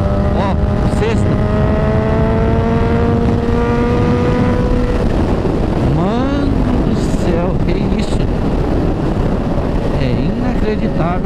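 A Suzuki GSX-S1000 engine pulls hard in sixth gear, a loud, steady rising drone with harmonic whine and continuous wind rush, rider close by throughout; the tone dips and sweeps after midway as speed shifts.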